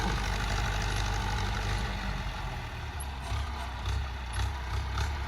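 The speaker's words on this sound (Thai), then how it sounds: "รถไถฟอร์ดครับ" A Ford 5000 four-cylinder, 70-horsepower tractor engine idles steadily nearby, a low continuous rumble with a faint rattling hum and no speech.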